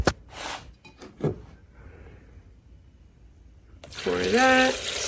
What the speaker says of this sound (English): Pour that in there. This is 4 cups of water.